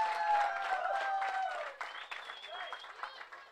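Crowd applause rings out at a cricket premier league prize ceremony in Virar, a dense patter of clapping under an amplified voice that carries on over it throughout.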